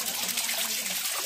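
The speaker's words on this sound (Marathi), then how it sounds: "वा, वरतून पाणी पडतंय." Water pours down from above at a stream pool in Kundlika Valley during a trek, a steady close trickling splash with no talk over it.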